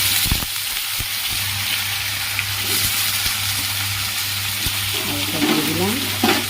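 Potatoes sizzle steadily in hot mustard oil in a pan, a bright crackling fry with occasional scraping knocks of stirring close by.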